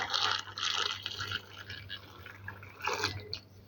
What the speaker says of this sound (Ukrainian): Все знімаю і гарячим заливаємо вишні